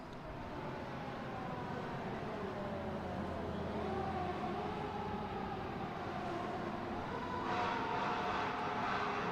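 A Sunrise Airways airliner lands at Boston Logan International Airport, its engine roar rumbling steadily at mid distance with a slow shift in pitch, holding fairly even throughout.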